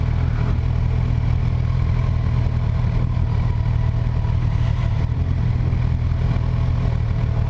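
Kawasaki Versys 1000 LT SE motorcycle engine running steadily up close, a constant deep mechanical drone with light clatter throughout and no voices.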